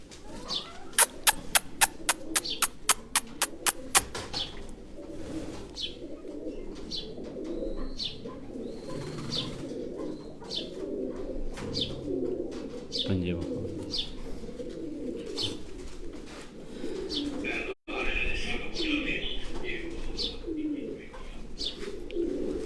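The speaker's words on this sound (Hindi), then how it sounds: "इसी तरह एक और कबूतर ये छोटा लाया है" Pigeons cooing in a loft, with soft repeated coos and chirps over a steady background hum and a quick burst of rapid clicks near the start.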